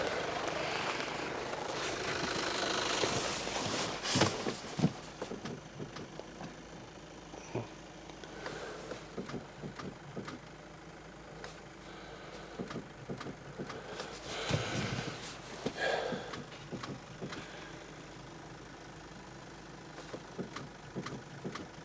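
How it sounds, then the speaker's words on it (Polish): A Volkswagen Golf engine turns over and settles into a steady idle after its cables are replaced, a continuous moderate rumble with occasional clicks and knocks over about twenty seconds. "teraz pozostaje tylko odpalić golfa i miejmy nadzieję również fokusa"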